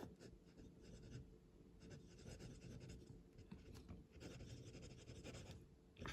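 A Traveler's Company brass fountain pen with a steel fine nib writes on paper, making faint, close, scratchy strokes in irregular bursts with short pauses between.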